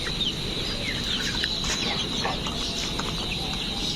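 Laying hens on a layer poultry farm keep up a dense, continuous chorus of clucking and chattering, with many birds calling at once at close and middle distance.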